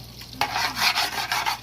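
Butter sizzles and crackles steadily in a hot pan, with a brief stir or scrape partway through; close and moderately loud.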